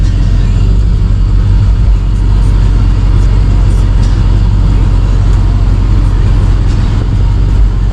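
A 2002 Cadillac Escalade engine runs just after a GM hydroboost replacement, a loud, close, steady low rumble that holds evenly throughout, with a brief voice at one point.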